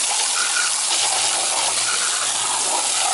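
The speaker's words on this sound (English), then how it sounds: "You can do a pretty good job just with a hose." A garden hose sprays water onto the coil of a Ruud air conditioner during annual servicing, making a loud, unbroken hiss and gush that holds steady throughout.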